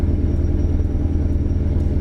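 A truck engine rumbles steadily up close, a deep, loud, continuous idle with a slight pulsing throb and no voices.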